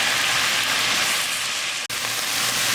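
Morel mushrooms and thyme sizzle steadily in a sauté pan, a loud even hiss that is broken only once by a momentary gap.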